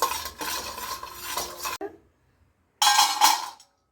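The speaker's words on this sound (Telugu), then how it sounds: "జీడిపప్పు వేయించుకోవాలి లైట్గా, డ్రై రోస్టే, ఆయిల్ లాంటివి ఏం అక్కర్లేదు." Cashews dry-roasted without oil in a pan for an Ekadashi laddu, stirred with a utensil in two bursts of scraping and clinking, with a silent pause between them and no talking.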